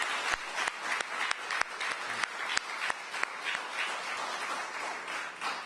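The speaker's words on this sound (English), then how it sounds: "So let's give Mayor Vincent C. Gray a round of applause." A crowd at a Washington, D.C. mayoral announcement applauds, with a few sharp individual claps standing out at first before settling into steady, moderately loud clapping.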